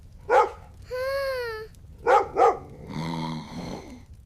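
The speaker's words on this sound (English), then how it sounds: "Why is Lucky barking so loudly?" A dog barks close by in short bursts, mixed with a drawn-out whining howl and a lower growl between barks.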